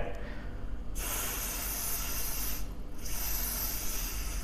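Umbre water repellent is sprayed onto the case of a SKMEI 1412 watch, a cheap copy of the Casio F91W. It sounds as a steady close hiss in two bursts with a short pause between them.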